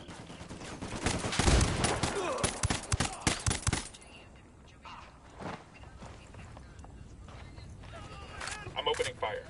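Bursts of gunfire in Ghost Recon, a loud cluster of rapid shots early on, then sparser scattered shots and footsteps as voices talk throughout.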